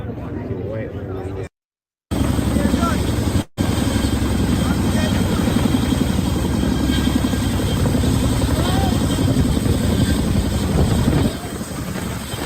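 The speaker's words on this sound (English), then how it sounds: "Those were two Chinook helicopters" Two Chinook helicopters fly low overhead, a loud, continuous rotor thudding and engine roar that dominates throughout, cut briefly by two short gaps.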